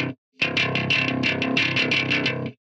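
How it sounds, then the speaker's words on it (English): A distorted metal bass tone in Logic Pro plays a rhythmic run of punchy, gritty, clanky notes, loud and alone, after a brief opening note and pause. "here's what it sounds like with the distortion"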